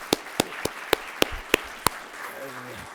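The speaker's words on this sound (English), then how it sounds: "give them a round of applause" At a university business competition, a handful of sharp, evenly spaced claps ring out close by, about seven in a row. A voice then begins speaking.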